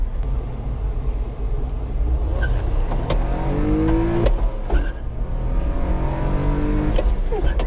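A small Japanese mini truck engine revs and accelerates on a race track, its pitch rising and falling through gear changes over a constant rumble, close and fairly loud.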